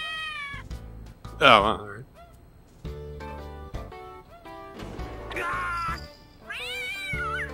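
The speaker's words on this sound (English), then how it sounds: "The cat's doing it. I think he wants to go outside." A cat meows repeatedly, asking to be let outside, in a video game scene; several drawn-out meows rise and fall between game music and a man's brief speech.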